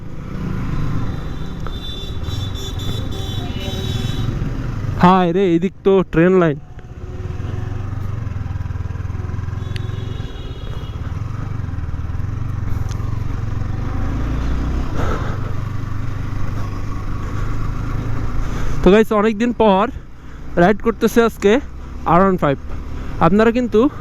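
A Yamaha R15 V3 motorcycle engine drones steadily while being ridden, a continuous mid-pitched hum with wind noise, as a rider talks loudly over it in several stretches.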